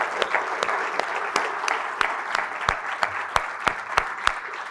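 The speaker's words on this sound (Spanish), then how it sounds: "Él se merece el aplauso." A church congregation applauds warmly in a steady wash of clapping, with a few sharp, loud individual claps standing out close by.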